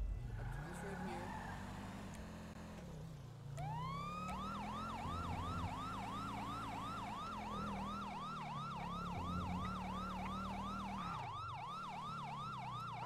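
Emergency vehicle siren in GTA V during a roleplay session, a rapid wailing yelp that starts up and repeats steadily, over engine rumble and a voice talking.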